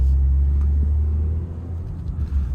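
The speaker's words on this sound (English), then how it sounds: "Lower the windows a little bit so you can hear a little bit of the exhaust." A deep, steady engine rumble drones from a car's exhaust while driving, low and heavy, easing slightly partway through.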